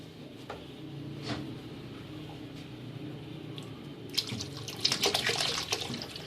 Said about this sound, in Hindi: इसमें थोड़ा पानी और ऐड करेंगे